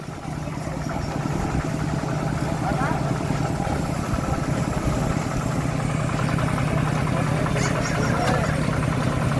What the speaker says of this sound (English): That's the family tractor.